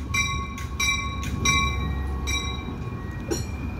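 A local commuter train bound for Chicago Union Station pulls into Prospect station with a steady low rumble of wheels and several sounded horn blasts. No one speaks.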